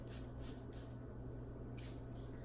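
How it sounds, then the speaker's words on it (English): A spray bottle mists hair product onto a braided scalp, giving five short hissing bursts in an uneven rhythm, close and soft over steady background hum. "I'm just gonna spray my scalp"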